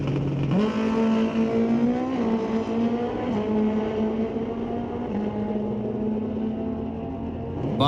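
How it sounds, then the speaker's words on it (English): A 2002 Kawasaki 900cc drag racing motorcycle at Mission Raceway Park in an ET series race, a loud steady engine roar that climbs through gear changes and holds high for several seconds, with no talk over it. "Bob Ward in the right lane on his 2002 Kawasaki 900cc unit there."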